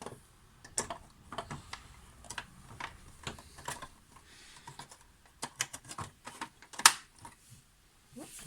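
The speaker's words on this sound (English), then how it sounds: "Once you hear the click, you know you're good." Plastic parts of a Real Ghostbusters Ecto-1 toy car are pressed together during a restoration, giving a scatter of faint, close ticks and taps that build to one sharp snap near the end.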